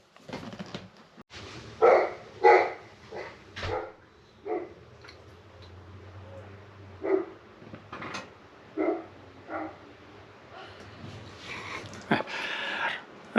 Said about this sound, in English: The neighbors' dogs like to bark, but they're quite friendly.